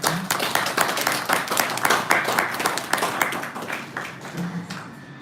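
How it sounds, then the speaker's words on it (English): Wedding guests clap in a sustained round of applause that holds steady for several seconds at moderate closeness, with murmured voices mixed beneath the dense patter of hands. "Oh, please give him a clap."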